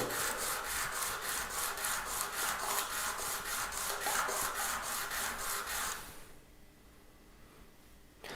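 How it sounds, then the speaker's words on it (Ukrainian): Steady back-and-forth scraping strokes of a metal sample being sanded by hand on abrasive paper, quick and rhythmic, fairly close, stopping after about six seconds. "поступальними рухами ми проводимо шліфування"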